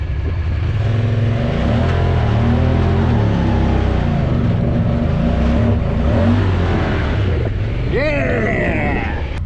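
Side-by-side off-road vehicle stuck at a river ranch, its engine droning loudly and steadily in reverse, ending in a rising rev near the close, with voices faintly underneath.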